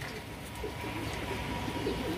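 Soft, low coos of Teddy pigeons repeat steadily over a murmuring background, with a few faint bird calls mixed in.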